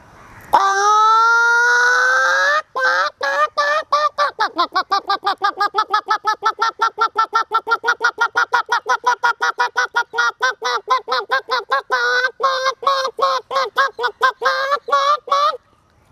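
A human voice imitates a hen calling before laying an egg, one long rising cluck-wail followed by a fast, steady run of rhythmic clucking pulses, loud and close, with no other sounds.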